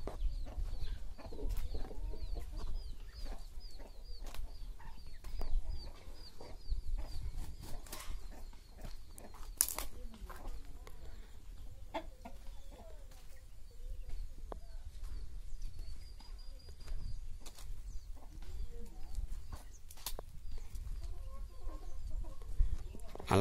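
Roosters and chickens kept in a wire-mesh pen holding some twenty to thirty birds, giving scattered clucks and calls at close range over steady background noise with no talking.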